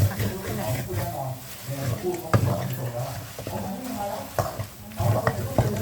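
Korat-style flat rice noodles are stir-fried in a pan with a steady sizzle and repeated scraping clatter of the spatula, while someone talks over the cooking throughout.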